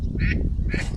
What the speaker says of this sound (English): Tons of ducks.